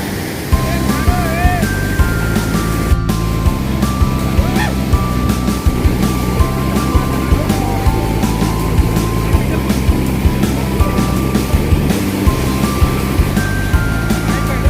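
Strong flowing water at Ethipothala waterfall, a loud, continuous roar of rushing water with a steady broadband texture and faint tonal sounds mixed in, close and unbroken throughout.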